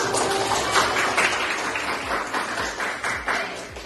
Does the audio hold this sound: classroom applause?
yes